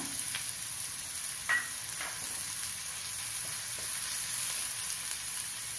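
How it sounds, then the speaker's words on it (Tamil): Finely chopped onions fry in oil in a pan, giving a steady, soft sizzle that runs throughout with a few faint stirring clicks and no talk. "ரெண்டு வெங்காயம் பொடியாக நறுக்கி வச்சுருக்கேன், அதை சேர்த்துக்குவோம்."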